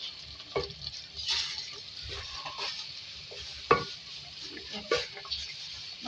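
Potatoes and ridge gourd frying in a pan as garam masala is stirred in, a quiet crackle marked by intermittent spoon scrapes and knocks against the pan, with no speech.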